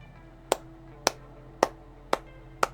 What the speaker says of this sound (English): If you don't know what I'm clapping for